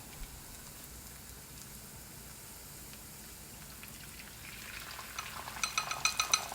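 Egg hitting a hot wok with garlic and being scrambled, a soft steady sizzle that swells into louder crackling and spitting toward the end.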